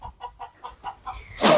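A hen climbing down from its nest after laying, giving a run of six soft, evenly spaced clucks close by, then a sudden louder flap or squawk at the end.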